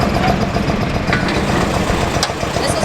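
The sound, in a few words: canal boat engine running in the engine room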